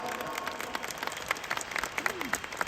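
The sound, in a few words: audience applause for leaders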